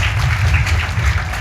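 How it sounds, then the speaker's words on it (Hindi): Audience at a college event applauding to welcome a guest, continuous loud clapping with a booming low rumble, filling the room without pause. "आप सभी ताली बजाकर इनका स्वागत करें"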